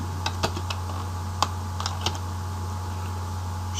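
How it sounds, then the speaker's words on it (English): A few scattered keystrokes on a computer keyboard while text is typed into a Microsoft Access 2016 form, crisp and close over a low steady electrical hum. "in there we type in"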